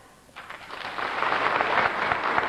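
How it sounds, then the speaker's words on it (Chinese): An audience applauds for Peking opera contestants at the Mei Lanfang Gold Award competition, the clapping swelling from quiet to a steady, dense ovation that holds for a couple of seconds. "用掌声给他们以最大的鼓励"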